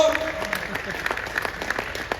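Listeners at a large poetry gathering at the Dadri fair clap for a poet, scattered applause heard at a distance with a voice speaking over it.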